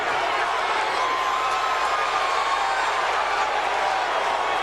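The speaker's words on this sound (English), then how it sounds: "The crowd's encouraging him." A boxing arena crowd roars steadily during a heavyweight bout between Larry Holmes and Eric Butterbean Esch, a loud, dense wash of cheering and shouting that stays constant throughout.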